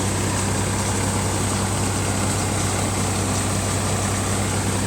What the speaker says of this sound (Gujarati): તો આ રીતનું ટ્રેક્ટર ચાલે છે આપણું જોઈ શકો છો તમે